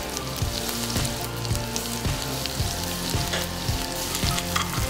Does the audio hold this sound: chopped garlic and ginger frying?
yes